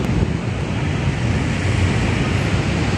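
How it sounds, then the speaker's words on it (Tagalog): Wind at a seaside esplanade, a constant roaring rush buffeting the microphone, with low rumbling gusts and a steady broadband hiss like surf throughout. "At saka mahangin dito"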